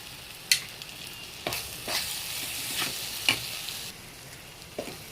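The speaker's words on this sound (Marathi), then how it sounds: "चांगलं परतून घेऊ आता मिक्स करून" Mashed brinjal bharit being sautéed and stirred in a pan, with a soft continuous sizzle broken by several scraping stirs of the spoon, close and fairly quiet, no voices.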